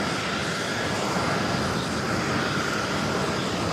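A DHL Boeing 777 freighter arriving at New York JFK from Anchorage, a steady broadband jet engine roar that holds loud and even throughout, with no talking.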